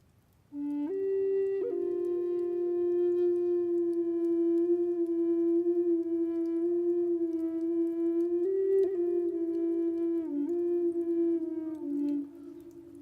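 Flute played with holes partly covered, one-third or two-thirds, producing a soft, breathy sustained tone that bends and steps between close pitches for about twelve seconds, played alone in quiet surroundings.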